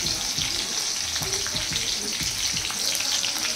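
Garlic and green chillies frying in a pan give a steady close hiss and crackle, with light spatter and soft stirring sounds throughout.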